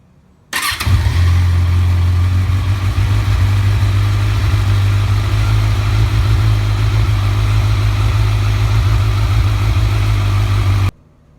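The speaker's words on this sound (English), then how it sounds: "We let the bike run for about 45 seconds or so." A Kawasaki Z1000 motorcycle starts with a sudden burst and then idles with a steady, loud, low engine hum and close mechanical rumble that holds evenly for about ten seconds before cutting off.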